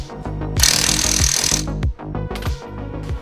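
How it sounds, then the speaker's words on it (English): A wire brush wheel on a power tool scrubs rust off the wheel hub of a VY SS Commodore. It gives a loud, rough abrasive whir for about a second, set over a rapid mechanical rattling pulse that continues throughout, with brief buzzes after. "brush, wheel around here and just clean off that rust so it doesn't like jam on there so tightly."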